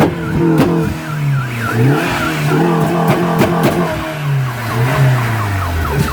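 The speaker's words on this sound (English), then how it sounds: "After all the exhaust work, like I don't think it didn't help with the sound. It's still like noisy." Tuned BMW 116i with a new exhaust revving hard, its engine note climbing and falling in repeated sweeps, loud and close, with sharp crackles and pops from the exhaust between revs.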